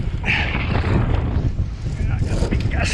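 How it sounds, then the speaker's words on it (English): A strong gust of wind roars across a solo sailboat at sea in around 30 knots, heavy rumbling buffeting and flapping sail noise close to the microphone while someone talks over it. "got a big gust here now."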